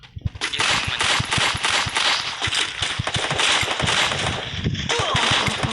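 Rapid gunfire from an M500 in the mobile battle royale game Free Fire, a loud, dense stream of sharp shots cracking in quick succession for almost six seconds, with a brief lull near the end before the firing resumes.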